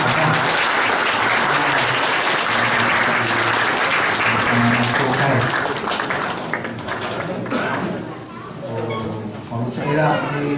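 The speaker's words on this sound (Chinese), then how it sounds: "我们再一次的来掌声" A church congregation at a 70th anniversary service claps loudly and continuously, a dense roar of applause that thins out toward the end, with a voice speaking over it.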